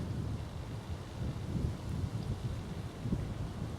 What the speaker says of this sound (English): Wind's picking up now, as you may hear.